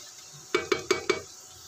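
A spoon strikes a pan four times in quick succession while an aloo mixture for Navratri is stirred and fried on low flame, close, crisp metallic clinks over a quiet background.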